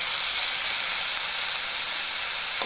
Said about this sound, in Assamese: ইয়াতে তেলখিনি গৰম হ'ল আৰু লগতে মই পিঁয়াজ দি দিলোঁ